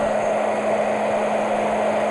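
A blow dryer runs steadily during a haircut, aimed down the hair shaft while sections are brushed through; a loud, constant broadband whoosh with a faint motor hum beneath, unbroken and close, with no voices.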